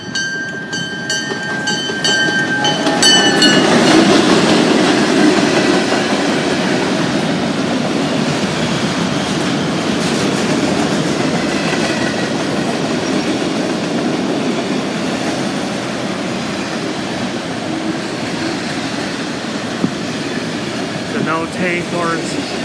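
A CN freight train with a hopper at the head end and bi-level autoracks behind rolls past a GO station platform, a loud sustained rumble and clatter of cars that stays close and steady, with a brief horn-like tone early on.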